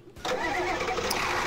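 A car engine in the Roblox game Car Crash System cranks and catches, then runs at a steady, loud idle with a brief higher tone near the end.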